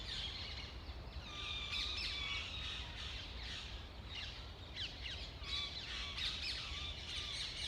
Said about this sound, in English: So we've got the birds, we've got the background traffic,